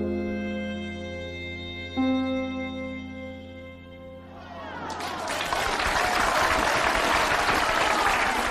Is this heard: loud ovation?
yes